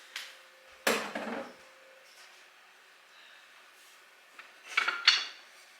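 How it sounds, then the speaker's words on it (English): Diced tomatoes tipped into a hot pan set to medium heat, landing with a loud wet clatter and splat, followed by a second burst of clinking and sizzling a few seconds later. "We are going to add the tomatoes to the pan."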